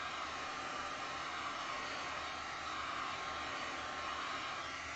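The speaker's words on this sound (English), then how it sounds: "heat gun on high, and I'm going to go in there, and I'm going to heat it up" Heat gun running on high while warming an epoxy resin coaster, a steady close blowing roar throughout with no pauses.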